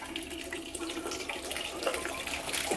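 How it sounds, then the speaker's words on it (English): Canned chicken broth is poured into a soup pot of Zuppa Toscana, a close, continuous splashing and gurgling flow of liquid that stays steady throughout. "now it's time to add both of our cans of chicken broth."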